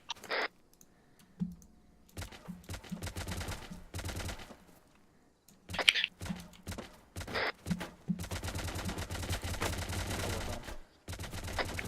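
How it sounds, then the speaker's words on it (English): Bursts of gunfire from an Arma 3 firefight, scattered volleys and sustained automatic strings with sharp cracks, some near and some distant, separated by brief quiet gaps. "Everyone that's shooting right now is not us."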